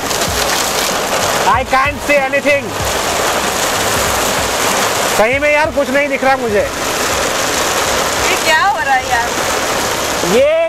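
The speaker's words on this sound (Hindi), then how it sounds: "अब बारिश आ गई और इतनी तगड़ी वाली बारिश" Dense, steady hiss of heavy rain pouring throughout, loud and close, with a person talking over it in several short bursts.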